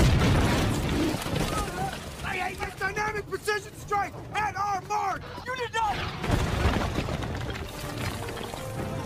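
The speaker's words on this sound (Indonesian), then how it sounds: "Akibat ledakan bom dari bantuan serangan udara, tiba-tiba terjadi getaran" Film airstrike bombing and gunfire from The Mummy (2017): a dense, continuous battle din of booms and rumbling blasts with bursts of shots, loud throughout and mixed with other effects.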